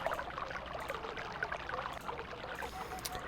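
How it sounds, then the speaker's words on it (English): Water running through a hose in the puzzle game Myst, a steady, rushing wash of flow with a faint trickling texture, continuous and fairly close, with no talk over it. "we have a hose now that seems to have water running through it"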